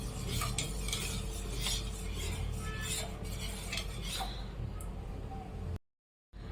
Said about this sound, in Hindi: मैं इसमें नमक ऐड करूंगी और इसको हम अच्छे से मिक्स कर लेंगे।